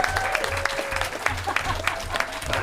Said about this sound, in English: Cheering section here.